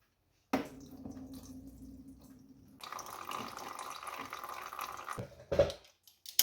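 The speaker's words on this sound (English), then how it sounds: "let's see just how much oil comes out of this thing" Engine oil drains from a Yamaha Raptor 250 ATV, trickling quietly at first, then pouring in a steadier, fuller stream, with a few soft drips and clunks near the end.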